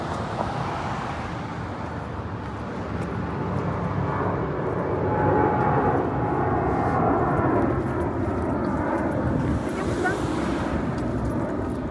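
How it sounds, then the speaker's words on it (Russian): An airplane takes off, banking, with a broad steady engine roar that swells slightly and stays constant over street traffic noise, heard from outdoors near a library. "Смотри, самолет так красиво взлетает на бочок."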